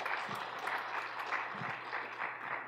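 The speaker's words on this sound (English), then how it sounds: "I think she deserves a better hand clap." An audience at an innovation week event gives Sheila a round of applause, continuous soft clapping with a steady rhythm at a faint, distant level, with a low hum beneath.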